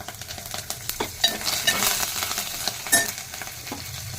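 Asafoetida dropped into hot oil and stirred, giving a steady frying sizzle with scraping stir strokes and occasional louder bursts throughout, close up and without speech.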